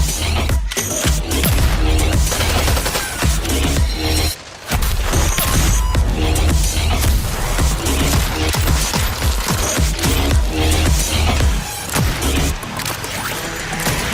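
Rocket launcher fire in an AR video game, dense bursts of blasts, crashes and mechanical clatter, loud and busy with a brief silent gap, no talking over it.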